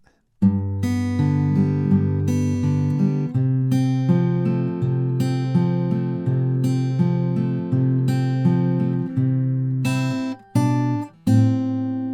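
Fingerpicked acoustic guitar plays a tab line, a steady flow of plucked notes over held bass tones, close and clear with no voice, with two brief breaks near the end.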